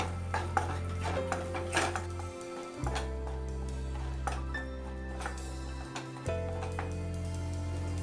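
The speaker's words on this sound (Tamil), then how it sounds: "மசாலாவை நல்லா மிக்ஸ் பண்ணி விட்டுக்கோங்க" A spoon stirring masala in a metal cooking pan, with repeated clinks and scrapes against the pan over a sustained background tone, close and fairly clear, with no voices.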